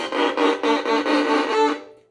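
A bowed violin tone, harsh and scratchy from heavy bow pressure, in about six strong strokes, then fading out. No voices.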